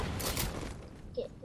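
Gunfire in the video game Fortnite, a dense rattling burst of shots that fades into mechanical clicks, close and continuous with game noise underneath.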